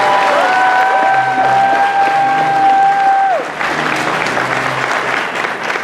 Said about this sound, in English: round of applause for your player manager.